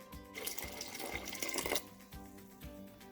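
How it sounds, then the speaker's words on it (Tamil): Water pours into a pot of sambar as it cooks, a short, quiet splashing gush that swells for about a second and a half and then tapers into faint trickles. "நான் கொஞ்சம் தண்ணி சேர்க்க போகிறேன்."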